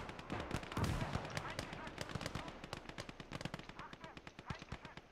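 Anti-aircraft guns fire in rapid, rhythmic bursts during a Call to Arms: Gates of Hell battle. A dense rattle of evenly spaced shots runs the whole time at moderate volume, with a stronger blast near the start.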